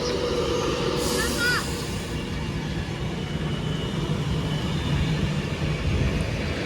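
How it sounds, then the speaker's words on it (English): A train pulls away from platform 3 at Warrington Bank Quay station, a steady low rumble of rail noise lasting throughout, with a brief high squeal early on and a broadband hiss. "This train is now ready to depart."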